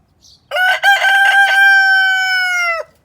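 A rooster in a backyard garden flock of chocolate Orpington and Rhode Island Red chickens gives one loud, close crow, a long sustained call standing alone against near silence.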